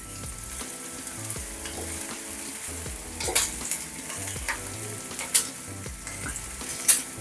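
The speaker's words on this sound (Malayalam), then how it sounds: "ഒരു മിനിറ്റ് ഹൈ ഫ്ലെയിമിലൊന്ന് വഴറ്റി കൊടുക്കാം" Small shallots sautéing in a pan over high flame, a steady close sizzle with stirring scrapes and a few sharper clicks of the utensil against the pan, no talking.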